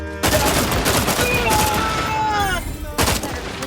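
Sustained gunfire from The Outer Worlds 2 video game, a dense loud burst of rapid shots lasting several seconds, with a synthetic voice and other game sounds mixed in.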